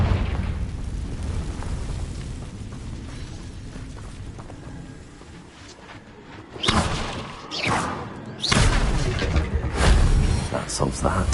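Confringo blasting-curse explosions in the video game Hogwarts Legacy, a low rumbling bed followed by several sharp, loud bursts and thuds near the end.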